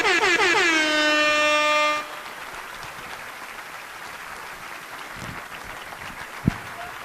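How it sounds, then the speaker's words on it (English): An audience at an event in Calgary applauding after a speech, a broad steady wash of clapping under a loud blaring air horn that sounds for the first two seconds and then stops, leaving the applause going on alone. "Can we just give her a round Let's of keep the applause?"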